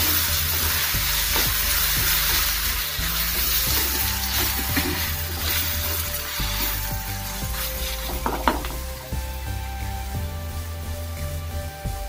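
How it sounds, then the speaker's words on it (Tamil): Onions and a spice paste sauté in a pan for an egg gravy, giving a steady broad sizzle with occasional spoon scrapes and clinks, fairly close and continuous throughout, with no voices. "இப்போ இந்த பேஸ்டையும் சேர்த்து இந்த வெங்காயத்தோட நல்லா வதக்கிக்கலாம்."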